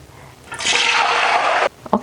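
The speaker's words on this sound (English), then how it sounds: "I'm just going to add 2 tablespoons of the salt water into the oil, and it's going to make a lot of noise" Two tablespoons of salt water hit hot oil in a pan while plantain chips are being made. A loud, close burst of hissing sizzle erupts suddenly, holds for about a second, then drops away to scattered crackles.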